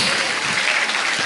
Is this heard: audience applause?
yes